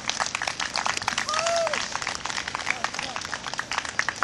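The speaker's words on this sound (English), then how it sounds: "Thank you for your kind applause." Audience applause fills an evening hall, dense and steady throughout, with a faint whistle and scattered voices rising briefly over the clapping.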